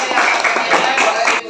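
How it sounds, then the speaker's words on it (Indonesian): A classroom of students applauding their group together, a dense burst of steady clapping that carries close and loud before cutting off abruptly near the end. "tepuk tangan untuk kelompok kalian"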